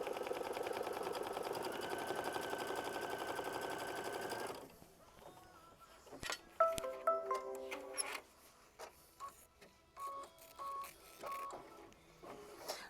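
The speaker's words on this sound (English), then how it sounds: "that's going to be machine stitch step 13, which is just going to tack this piece down" A sewing machine hums in a steady run for several seconds while tacking down a piece of a flower bouquet quilt block, then stops, followed by scattered clicks and short electronic beeps from the machine.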